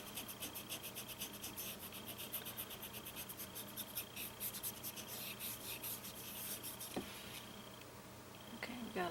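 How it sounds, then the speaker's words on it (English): An acrylic paint brush rubbed against a coaster, a faint, close, steady scratchy scrubbing with rapid repeated strokes, quiet throughout. "So I'm going to rub just a little bit harder."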